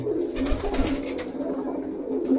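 Pigeons being taken out coo steadily in low, rolling calls, several birds close together and fairly loud, with light knocks and shuffling underneath.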